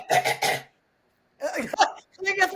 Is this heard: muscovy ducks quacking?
no